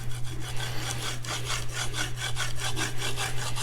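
A steel blade is drawn in steady, repeated strokes across a coarse Arkansas natural sharpening stone, giving a close, gritty rasp with regular back-and-forth rhythm over a low constant hum.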